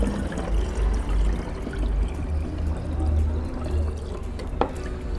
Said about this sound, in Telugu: నేను వాటర్ వేస్తున్నాను, కొంచెం హాఫ్ లీటర్ వాటర్ వేసాను.